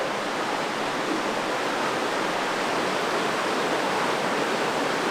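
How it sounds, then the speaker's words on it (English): Steady, loud rush of water flowing beneath the dynamo generator at Warwick Castle, a continuous broadband roar with no pauses and no voices. "the water is rushing past underneath it"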